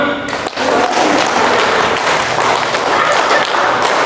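A roomful of adults claps in unison during a counting clap game at a session on teaching math, producing a dense, loud, continuous wash of hand claps with faint voices underneath.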